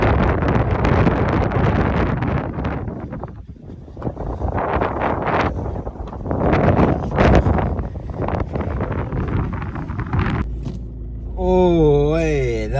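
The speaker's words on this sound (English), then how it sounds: "it's very windy" Strong wind buffets the microphone outdoors, a loud rushing roar that swells and dips throughout while someone talks, and a brief tonal warble cuts in near the end.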